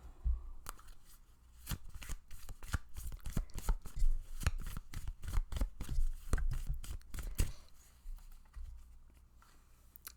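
Tarot cards being shuffled and handled nearby, a dense stretch of quick papery flicks and taps that builds in the middle and then thins out to a few scattered clicks.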